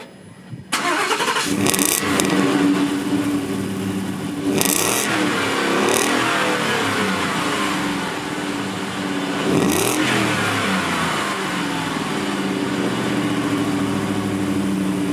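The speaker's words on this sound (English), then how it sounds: "F-150 cold start." A stock Ford F-150 pickup cold starts with a sharp crank and catch, then revs loudly several times before settling into a steady, close idle with occasional blips of throttle.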